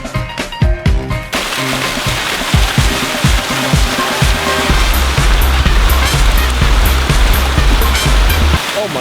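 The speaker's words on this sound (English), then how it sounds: "I just got to the waterfall and it's thundering." Thundering waterfall at Wheeler Lake on a mountain hike, a loud continuous roar of rushing water filling the scene, with a few brief knocks and rustles near the start.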